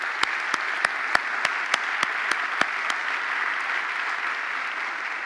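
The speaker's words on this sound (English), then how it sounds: "Please give them all a round of applause." A crowd claps steadily, a broad wash of applause with a few sharp, distinct claps standing out near the start.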